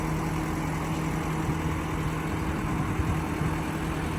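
Car engine left idling, a steady low rumble running evenly and fairly close throughout with no revving, no voices over it.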